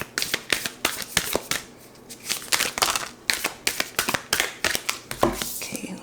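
Humid, slightly sticky tarot cards shuffled and drawn make a string of close, sharp riffles and flicks in quick uneven bursts, with short gaps between them.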